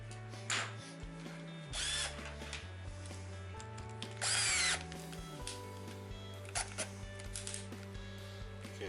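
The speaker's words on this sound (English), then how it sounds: "I don't want my drill set too stout, so I'm going to set it on about 7 there." A power drill drives screws into a Rovan 4WD RC car during crash repair: three short, loud whirring bursts at intervals, with quieter clicks and handling noise between them.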